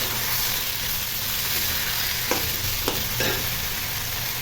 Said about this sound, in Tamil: எண்ணெய் சட்டி போட்டு எண்ணெய் ஊற்றி கடுகு போட்டு பொரிஞ்சதையும் கத்திரிக்காய் கத்திரிக்காய் போட்டு நல்லா கலக்கம்